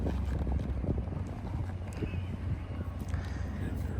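A rescue horse named Crandall walks slowly with a saddled rider, hooves clip-clopping in a soft, steady rhythm against outdoor background noise.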